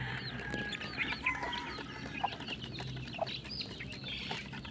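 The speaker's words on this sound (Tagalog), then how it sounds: "nagmamadali na po yung ating mga sisiw dito sa loob" Two-month-old chicks, recently weaned from the hen, cluck and peep busily in a pen at feeding time, a lively overlapping chorus of short calls close by.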